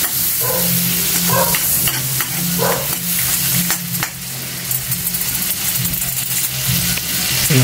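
Garlic frying in a pan, a loud steady sizzle with scraping stirs and metallic clinks of a utensil against the pan, no talking.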